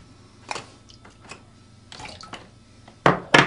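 DI water is poured over and rinsed from the sensors of a Manta2 water-quality multiprobe, with scattered small splashes and handling clicks, then two louder close pouring splashes at the end.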